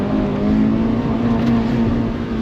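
A Honda Fit held at full throttle against its rev limiter during autocross gives a loud, sustained, flat engine buzz from inside the cabin, steady throughout and uninterrupted by speech.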